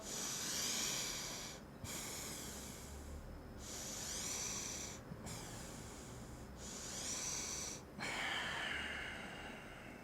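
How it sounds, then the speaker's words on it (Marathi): Slow, loud nasal breaths close up through the left nostril with the right one closed, four long airy inhalations separated by brief pauses, then a final breath with a sharper, whistling hiss. "माझी उजवी नागपुडी बंद केली मी श्वास घेतला"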